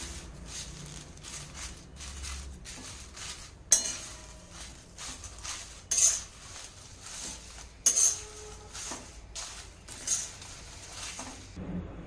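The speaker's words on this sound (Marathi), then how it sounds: "आता इथे आपण मिरची भाजण्यासाठी एक पातीलं ठेवलेलं आहे" A metal pot for roasting chillies for homemade garam masala is set down and handled on the stove, giving a few sharp clanks and scrapes over a low kitchen background, with no talking.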